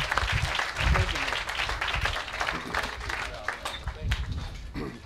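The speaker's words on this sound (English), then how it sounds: "Let's have a round of applause for the fruit" An audience at a company energy improvement kick-off applauds steadily, dense clapping filling the room from start to finish with some crowd murmur mixed in.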